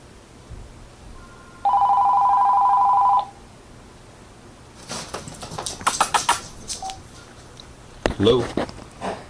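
A telephone rings in one steady electronic burst lasting about a second and a half during a phone interview with a boxer, followed by rustling and a voice talking.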